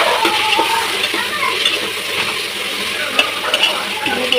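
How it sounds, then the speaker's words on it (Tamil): Ginger garlic paste sautés with curry leaves and mint in hot oil, a close, steady sizzle broken by scraping stirs and small clinks of the spoon against the pan. "போட்டு இந்த மாதிரி நல்லா வதக்கணும்."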